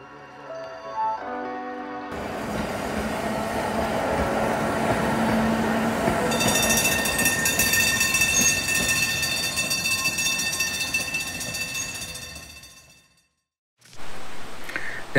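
An electric tram of the Manx Electric Railway on the Isle of Man, running on rails near Laxey, rumbles steadily up close with rail clatter and a rising high whine, then fades to quiet before a brief return of noise.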